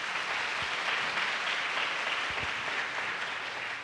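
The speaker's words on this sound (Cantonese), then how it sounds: "我哋可唔可以俾啲掌聲呢兩位老師？" Dense, steady applause fills a hall as parents and guests at a kindergarten thanksgiving ceremony clap for two teachers, a loud continuous wash of many hands throughout with no pause.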